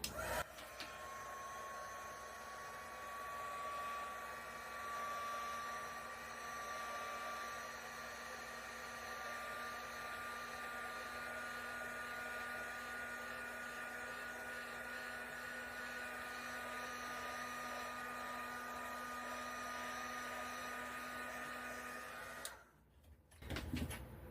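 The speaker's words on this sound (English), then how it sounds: "now I'm just going to hit this with a heat gun" Heat gun blowing steadily over an acrylic paint pour, a continuous whirring blower hum with a faint high whine, close and unbroken for over twenty seconds before it cuts off briefly near the end.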